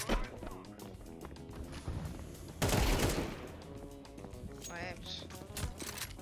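Gunfire in a video game crackles in bursts over background game sounds, with one louder volley in the middle and people talking throughout.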